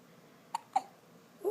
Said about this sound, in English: Got some hiccups, bud.